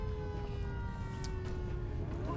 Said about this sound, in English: There's the warning, the siren.